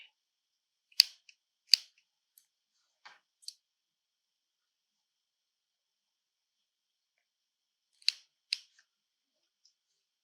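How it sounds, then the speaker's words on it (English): Scissors snip a notch into soft fleece for a cup cozy, with a few sharp, isolated cuts in two small clusters separated by a quiet pause, close and fairly faint. "Sometimes you just got to poke your scissors in and cut that way."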